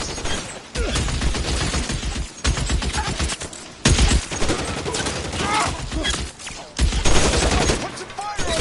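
Gunfire in the L.A. Noire video game, dense overlapping bursts of shots in a battle over open ground, loud and continuous with brief pauses, mixed with shouting voices.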